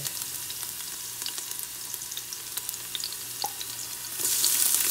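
Garlic sizzles in hot oil in a pan for Filipino lugaw, a steady close crackle and hiss with scattered pops, swelling louder near the end as more is added.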